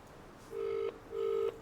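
Two steady electronic telephone ring tones, each lasting about a third of a second, separated by a short pause, over a quiet background.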